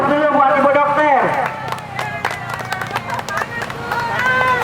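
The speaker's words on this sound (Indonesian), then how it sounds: "beri aplaus dulu buat Ibu Dokter" An audience at a political gathering claps for a woman doctor: a voice leads in, then scattered, lively clapping swells with crowd noise around it.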